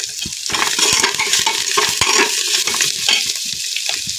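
A raw spice masala with bay leaf and potato is stirred in a frying pan, the spoon scraping in quick irregular strokes over a close, crackling sizzle of oil.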